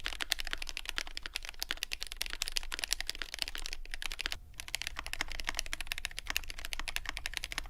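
Rapid typing on a GMMK Pro mechanical keyboard produces dense, fast clacking keystrokes in an uneven rhythm, close and fairly quiet, with a brief pause midway before the typing resumes.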